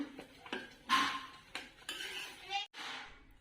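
Paneer pieces tumble into a pan of kaju paneer curry with clinks of a metal spoon against the pan and brief stirring, a few sharp knocks in quick succession, close and moderately loud.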